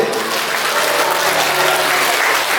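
Loud, continuous clapping from a school audience honours a 7th-grade team receiving an award at a haka contest, staying dense and even throughout.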